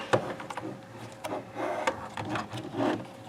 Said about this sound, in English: So you need to stick your flathead under these, pop them out, pop that one out